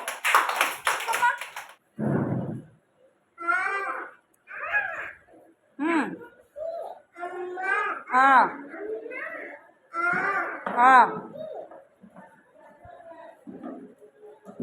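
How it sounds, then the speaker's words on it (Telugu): Young children at an anganwadi clap their hands in a short burst near the start, amid a teacher's and kids' talk that fills the rest. "క్లాప్స్ కొట్టండి లక్షితకి."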